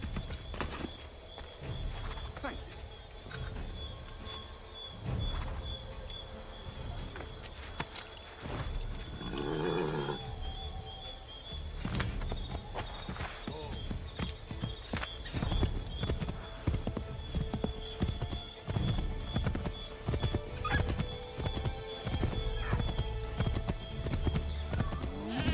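Galloping horse hooves in the Assassin's Creed 3 game, a steady rapid clip-clop running throughout under game music and ambience, with an occasional whinny and bursts of other sound effects.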